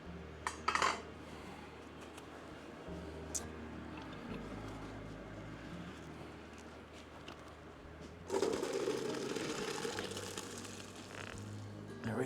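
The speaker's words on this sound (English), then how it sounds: "So we're going to drain it." Cooked macaroni pours into a colander in a kitchen, clattering and sloshing, with a louder rush of draining water and rattling pasta in the second half.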